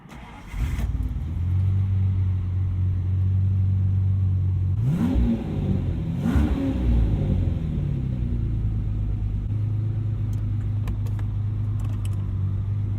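A Jaguar with an automatic gearbox starts up and settles into a steady deep idle, then gets two sharp blips of revving before returning to a smooth rumble, close and loud with no talking.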